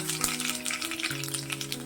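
Chopped garlic sizzles and crackles steadily in half a cup of hot oil already spattering with popping mustard seeds, a dense close frying hiss throughout with no talk.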